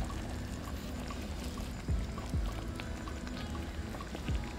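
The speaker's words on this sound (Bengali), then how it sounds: "হালকা জল দিয়ে দেবো।" Water poured into a pan while chicken pakora and tomato chutney are cooked, a soft continuous splashing pour with a few faint clinks, quiet and steady, no speech.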